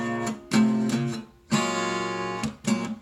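Solo guitar moving between ringing parallel major chords, strummed in short bursts with brief pauses and one long sustained chord, close and clean with no voices.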